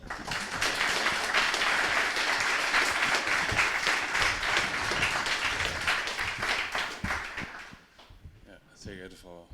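Loud, sustained applause from a large crowd fills most of the stretch, then fades as a person begins speaking.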